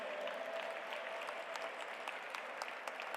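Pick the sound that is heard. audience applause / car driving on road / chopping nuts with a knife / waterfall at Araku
audience applause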